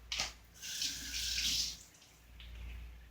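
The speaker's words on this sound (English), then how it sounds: "Now I gotta wash my hands." Hands are rinsed under a running kitchen tap, water splashing and gushing close by in uneven bursts over a low hum, with no talk.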